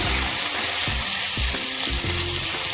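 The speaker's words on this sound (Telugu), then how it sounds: "ఉల్లిపాయ ఇవి బాగా ఎర్రగా అయ్యే వరకు వేయించుకోవాలి." Curry leaves and sliced onions fry in hot oil with mustard seeds and cumin, a dense, steady sizzle running throughout with low rumbling knocks from a stirring spoon, close and fairly loud with no talking.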